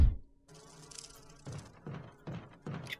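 Buzzing bees in Resident Evil HD Remaster, a steady insect drone in a hive area with a few louder bursts of game noise cutting through, fairly close.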